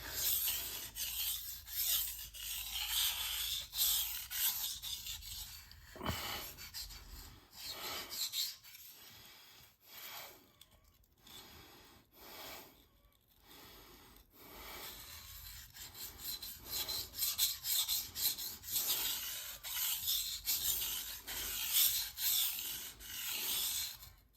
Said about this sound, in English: You can hear it grinding away.